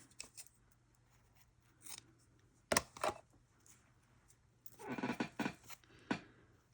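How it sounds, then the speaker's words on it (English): Scissors snipping through paper for a craft project, a few separate crisp cuts spaced out, then a quicker run of close snips; fairly quiet and near, with no talking. "And then I'll cut this part off."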